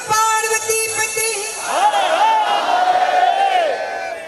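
A crowd at a Narmada Jayanti bhajan gathering shouts a devotional cheer to Lord Shankar, with loud massed voices rising together and sustaining a long, wavering chant after a brief sung phrase.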